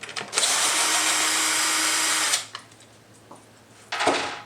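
A power tool drills out a 4mm hex head bolt on a 2017-or-later Kawasaki Z650/Ninja 650 during a fender eliminator install: one loud, steady whirring run of about two seconds, a short quiet gap, then a second brief burst.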